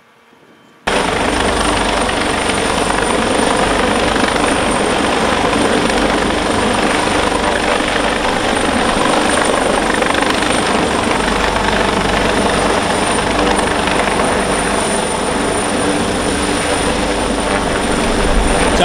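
A rescue helicopter hovers during a safety drill, its loud, steady rotor and engine roar filling the whole stretch without a break.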